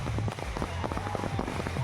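Firecrackers pop in quick irregular bursts at a wedding celebration, a dense crackling run of sharp snaps over a low rumbling background.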